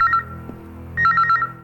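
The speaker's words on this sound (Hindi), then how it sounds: "राकेश जी, आपका फोन।" An electronic phone ringtone sounds in two short bursts of rapid, high beeping tones, separated by a brief pause.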